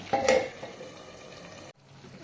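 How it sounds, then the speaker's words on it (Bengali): Lemon slices pressed down and fried in a pan in plenty of oil, giving a steady close sizzle with a brief scrape and clatter near the start, then a sudden drop into quieter frying near the end. "এবার চাপা দিয়ে দিয়ে লেবু ভাজে একদম ভাজা ভাজা ভাজা ভাজা করে নামাবো"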